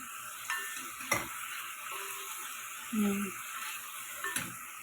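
Chicken tinola ingredients stirred in a pot with green papaya, bay leaf and seasoning, a steady quiet sizzle broken by a few soft scrapes and clinks of a spoon against the pot, with a brief voice speaking.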